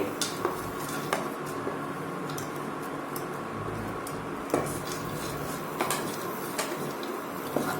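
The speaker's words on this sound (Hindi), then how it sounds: "तो अब इसके अंदर हम ये काजू और बादाम को डाल देंगे और हल्का सा इसमें हम इनको फ्राई कर लेंगे, घी में भून लेंगे।" Cashews and almonds fry in ghee in a pan over a low, steady sizzle, punctuated by scattered sharp clinks and scrapes of stirring against the metal.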